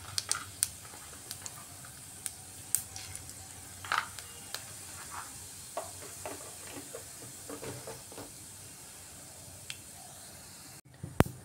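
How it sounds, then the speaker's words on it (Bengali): Whole cumin seeds sputtering in hot refined oil in a kadai, a faint steady sizzle broken by scattered sharp pops and crackles throughout. "রিফাইন্ড অয়েল দিয়ে এর মধ্যে এখন ফোড়ন দিচ্ছি আমি"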